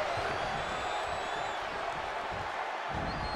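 Steady crowd roar and cheering from a WWE 2K24 wrestling match fill the arena without pause, loud and continuous, with a brief dip near the end.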